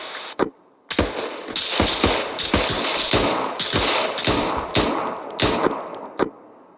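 Gunfire in the military shooter Arma 3: a couple of sharp single shots, then a dense run of loud, close automatic bursts that taper to a final shot.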